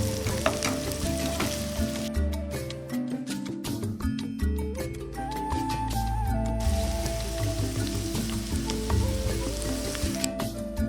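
Half a kilo of chopped onions sauté in a pan for prawn thokku, a continuous sizzling crackle that runs throughout beneath steady tonal, music-like sounds.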